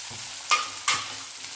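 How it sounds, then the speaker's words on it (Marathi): Peas and tomatoes sauté in a pan for a carrot and pea vegetable dish, with a soft background sizzle broken by two quick stirring scrapes. "त्याला परतून घेऊया आणि काही मसाले टाकून घेऊया याच्यामध्ये"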